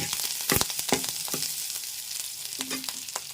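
Curry leaves with cumin and dried red chillies sizzle in hot oil in a pan, a steady bright crackle broken by a few sharp stirring clanks of the spoon, close and fairly loud, with no voices.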